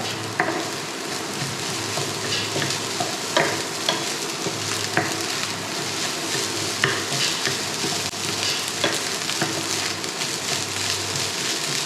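Egg fried rice sizzles steadily in a hot pan, with repeated scraping and clacking from stirring cutting through the continuous frying hiss, close and fairly loud, with no voices.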